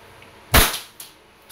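A 2011 Hi-Capa T-Rex airsoft pistol firing a single sharp, loud, close crack, followed by a fainter click and a faint tap.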